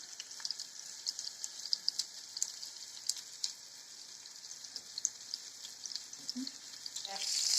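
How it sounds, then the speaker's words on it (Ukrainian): Meatball patties fry in a pan with a steady, close hiss of hot fat and scattered small crackles and pops, with no voices. "трошечки підсмажилася наша котлета"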